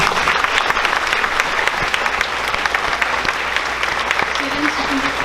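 An audience at a sixth grade graduation ceremony gives the graduating students a round of applause, loud and continuous clapping from a large crowd throughout.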